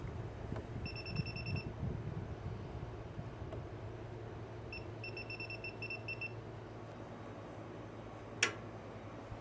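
Two short bursts of rapid, faint electronic beeping from a circuit breaker finder rise above a low steady hum, followed by a single sharp click.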